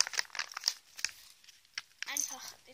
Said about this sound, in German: Einfach die Tüte aufmachen,